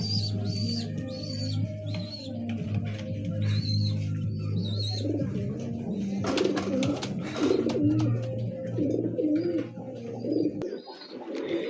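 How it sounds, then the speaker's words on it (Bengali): Imported Sialkot blood-line pigeons, a pair, coo in repeated low throaty calls through the clip, with fainter bird chirps and a few higher calls around them at close range. "এই যে দেখেন এই এক পেয়ার ইম্পোর্ট করা কবুতর"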